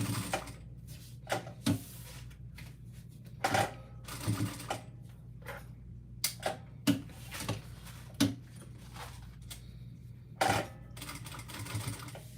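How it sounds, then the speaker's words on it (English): A sewing machine stitches around a box shape on a bag, running in short bursts with pauses between, fairly close and moderately loud. "Now what I'm going to do is I'm going to sew around that box"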